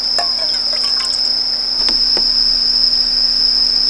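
Cicadas buzz continuously in the trees of a mountain forest recreation area at a campsite, a steady loud high-pitched drone throughout with a few faint clicks and taps.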